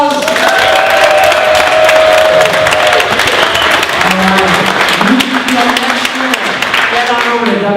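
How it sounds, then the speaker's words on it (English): At a Corvette Dream Giveaway award ceremony, a crowd delivers a loud, continuous round of applause with cheering, while a voice carries on speaking over the clapping throughout. "let's get a big Dream Giveaway round of applause!"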